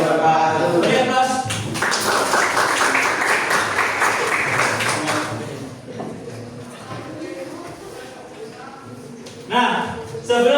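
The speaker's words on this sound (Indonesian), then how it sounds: "Beri aplaus." An audience applauds after a group presentation in a teacher-training session, a burst of dense clapping from a room of people that gradually thins out, with a voice speaking at the start and end.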